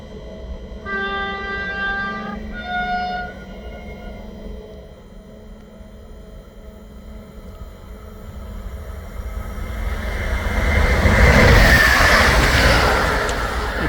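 A PESA 847 diesel railbus for Czech Railways on a test run, with a steady engine hum that builds into a louder, nearer rumble and rush as it passes, after a brief two-tone horn-like chime near the start.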